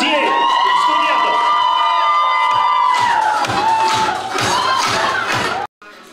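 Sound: crowd of students applauding and cheering

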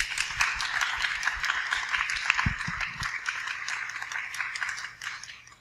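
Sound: audience applause for podcast panelists

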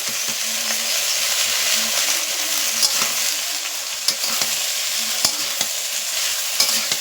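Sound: ash gourd pieces frying and stirred in a kadai

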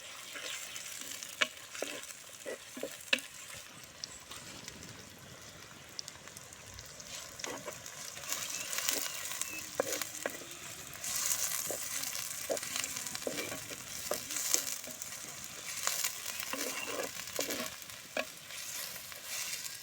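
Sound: onions frying in pan

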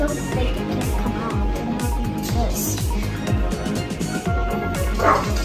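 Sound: dog barking

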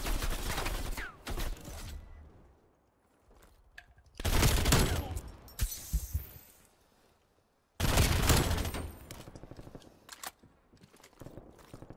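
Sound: gunfire in a video game

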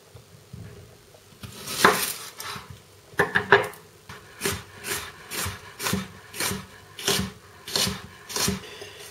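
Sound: knife slicing red onion into julienne strips

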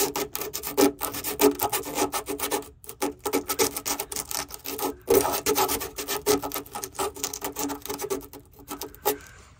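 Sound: sanding the top coat of paint off a van body

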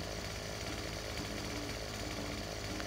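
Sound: chainsaw cutting wood in video game Farming Simulator 17

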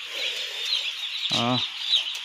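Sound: newly arrived farm chicks cheeping

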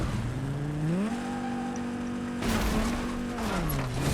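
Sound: car driving in Fortnite video game

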